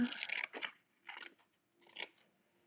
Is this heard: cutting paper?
yes